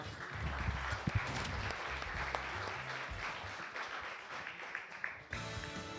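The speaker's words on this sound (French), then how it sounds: "Un applaudissement pour tout le monde, du coup." A small group applauds the players at a Smash gaming session, a soft steady patter of hand claps from a few people that cuts off abruptly near the end.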